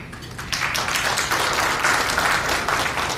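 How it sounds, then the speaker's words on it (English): Audience applause for a guest at a community event on mental health and resiliency in Muslim youth: a room full of steady clapping that swells in after a brief quieter start and carries on evenly, fairly loud and close, with no talk over it. "The gentleman really does deserve applause"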